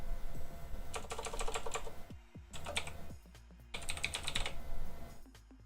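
A computer keyboard types a custom name in rapid bursts of clicky keystrokes, three clear flurries separated by short pauses, close and steady with no talking.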